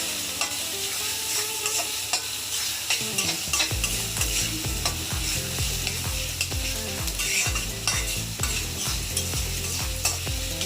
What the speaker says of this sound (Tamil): சின்ன வெங்காயம், பெரிய வெங்காயம், பெருஞ்சீரகம் நல்லா ஃப்ரை ஆகுது.